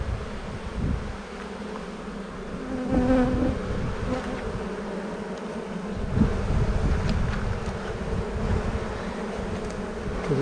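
Honey bees swarm around open hive frames, a dense, steady buzzing close up with individual bees droning past now and then, no talking.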